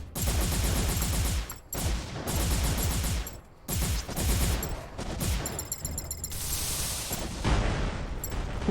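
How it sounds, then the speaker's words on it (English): Missiles fire in bursts in the mech video game M.A.S.S Builder, with dense rapid volleys of booming launches and impacts separated by brief pauses, loud and continuous within each burst. "Just dropping a ton of missiles there."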